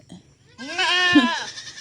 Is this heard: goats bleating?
yes